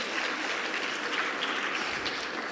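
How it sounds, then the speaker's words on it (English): Audience applause for Fabian at a community forum on algorithmic bias, a steady even wash of many hands clapping at a moderate distance, continuous and alone throughout. "So let's give Fabian another round of applause for his advocacy."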